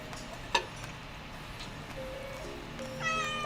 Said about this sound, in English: This is Chanel the kitty